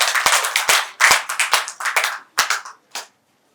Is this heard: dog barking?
no